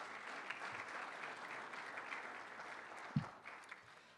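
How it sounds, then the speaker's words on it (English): Audience applause fills the room at a chamber of commerce awards gala held in a conference center, a steady even clapping throughout with one sharper low thump near the end as it begins to taper. "Give the Waterford a great round of applause for setting up the room and doing the food service today."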